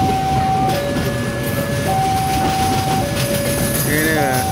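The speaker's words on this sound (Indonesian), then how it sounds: "Ini ya, kereta api dengan kereta makan termewah." A passenger train with a luxury dining car rumbles steadily nearby at a level crossing in Surabaya, with a continuous low roar and a sustained tonal whine over it; a voice can faintly be heard.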